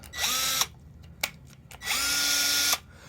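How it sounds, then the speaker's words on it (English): A cheap Ryobi One+ cordless drill runs in two bursts of a high, steady whine, the motor spooling up and cutting off each time, with a short click between them; close and loud, no talking. "It's not a great drill. It's not a high power drill. It's not even the highest end Ryobi drill that they make."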